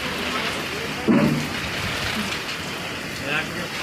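Wind-driven rain blowing through a village, a steady close wash of rainfall with a brief louder gust or rumble, while people talk over it.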